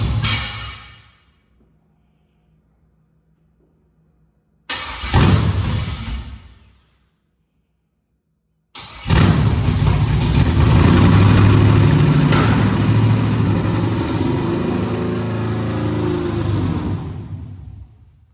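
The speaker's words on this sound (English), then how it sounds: "Now that was a startup with gas." A project car engine on gasoline cranks and briefly catches, falls silent, then fires up again and settles into a steady, loud, close rumbling idle that carries on to the end, with no voices.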